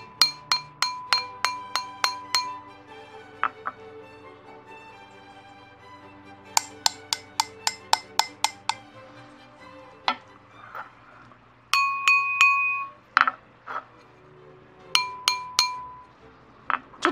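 Glazed ceramic pottery pieces with clear glaze are tapped, giving bright glassy clinks in quick runs of sharp strikes with short ringing tails, pausing between sets, close and fairly loud with no talking.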